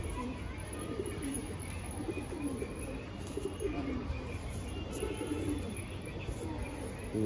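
Saharanpuri pigeons coo softly in repeated low throaty phrases, nearby but quiet, with light background noise and faint chirps.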